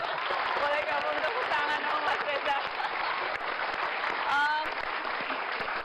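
A studio audience at an Indonesian talk show claps steadily, a broad wash of applause running throughout while a voice speaks over it near the middle and again toward the end.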